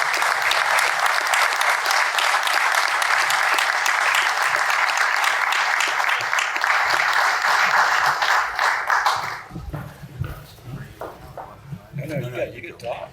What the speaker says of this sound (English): Everyone, please applaud for my husband, Bob Sowards, a 2022 inductee to the Ohio Golf Hall of Fame.